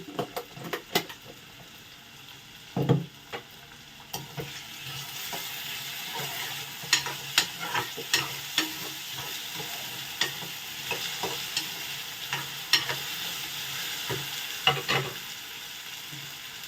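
Food frying and being stirred in a pan, with a steady sizzle throughout, broken by repeated sharp clinks and scrapes of a spoon against the pan, close and moderately loud.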